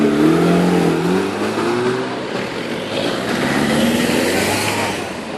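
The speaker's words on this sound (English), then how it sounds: "Escort Cosworth coming up." Ford Escort Cosworth driving past at a supercar meet, its engine loud and close as it revs and accelerates by, with a rising then steady roar and no talk.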